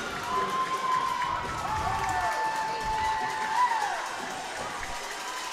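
A women's college hockey crowd at a championship game roars after a goal, a steady wash of cheering, whistles and clapping under an excited commentator's voice.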